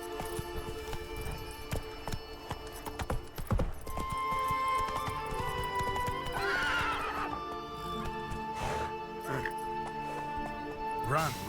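Roach, a horse in the video game The Witcher 3, gallops with steady hoof clops and whinnies over in-game background noise and music, while someone talks over part of it.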